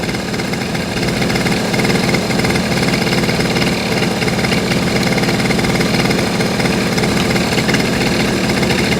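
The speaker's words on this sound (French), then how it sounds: "Le régime moteur va, dans un premier temps, s'élever." A small engine idles steadily and loudly during carburetor adjustment, with a fast, buzzing rhythm that holds constant throughout.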